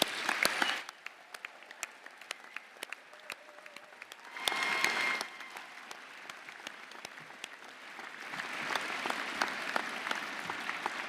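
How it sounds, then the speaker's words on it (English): At a university graduation ceremony, the audience gives a round of applause in bursts, with sharp scattered claps between swells of dense clapping from a large crowd in a hall. "A quick round of applause."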